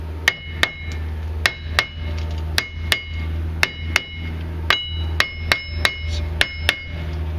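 Hammer striking a stiff rear rotor on a 2001–2006 Hyundai Santa Fe 2WD during a rear wheel bearing job, about twenty sharp metallic clanks in a steady, fairly quick rhythm, close and loud over a low background hum.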